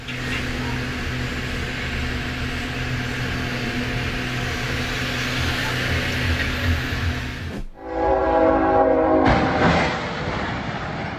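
A train rumbles steadily close by as it approaches, then its loud horn blasts in long tones toward the end.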